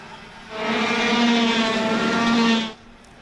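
Racing karts at Sonoma Raceway's kart track, in a 2022 ROK race, climb the hill onto the straightaway; a loud, steady engine buzz swells in, holds for about two seconds, then cuts back.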